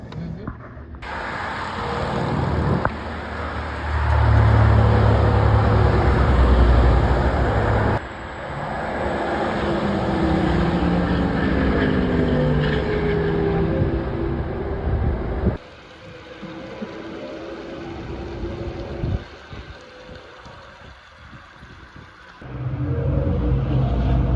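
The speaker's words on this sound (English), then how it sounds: "Let's see, can we hear the cars?" Race cars roar past at Daytona International Speedway, a loud continuous engine rumble heard from inside a vehicle with the window open, swelling and fading as cars go by, with some talk mixed in.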